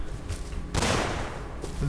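Explosive charges such as C4 blowing through a wall in Rust: a loud broadband blast bursts in partway through, with a rumbling tail and smaller bangs around it, all without speech.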